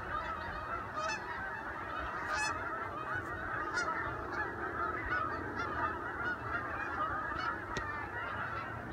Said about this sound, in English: Look at all these geese.